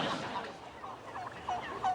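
Turkeys gobbling in a short burst, a few warbling calls over a steady murmur of background noise, fairly faint and at middle distance.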